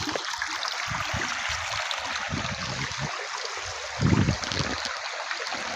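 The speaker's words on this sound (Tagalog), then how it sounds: "Tatawid tayo sa malit na ilog." Continuous gentle rushing of a small river being crossed on foot, steady and close, with a brief surge of splashing water partway through.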